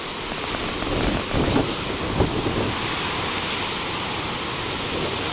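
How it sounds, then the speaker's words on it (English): Big ocean waves breaking offshore on a windy day, a steady broadband roar of surf with a few louder crashing swells, continuous and moderately loud with wind noise on the microphone. "I can't believe the waves out there though"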